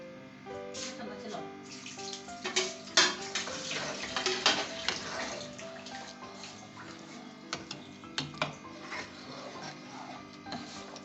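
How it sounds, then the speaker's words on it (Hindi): A spoon stirs sweet kheer in a pot after sugar has been added, giving repeated scraping and clinking strokes against the metal with a soft bubbling simmer underneath, close and steady, with no talk. "अब हमने इसका चम्मच चलाते जाना है"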